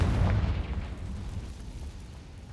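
Confringo fire spell detonating in Hogwarts Legacy, a loud, deep explosive boom at the start that rumbles on and slowly fades over a couple of seconds, with no voices.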